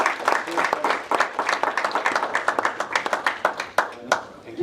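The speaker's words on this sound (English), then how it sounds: "Round of applause for our speakers and for our hosts." Applause from a tech talk audience for speakers and hosts, with close, distinct individual claps standing out over a broader clatter of hands that tapers unevenly toward the end.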